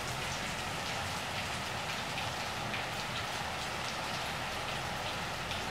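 Steady rain falls on a hard surface during a thunderstorm in Dallas, Texas, a dense even patter with no voices, constant and moderately soft throughout.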